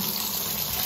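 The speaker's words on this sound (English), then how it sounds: "the water comes up very hot in the beginning" Hot water running from a bath tap, a steady full rushing splash that fills the moment without pause, close and fairly loud, with no voices over it.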